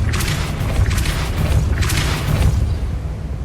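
Depulso spell blasts in Hogwarts Legacy: a series of deep, booming thumps with bright bursts, several in quick succession about half a second apart, loud and close over a low rumbling game background.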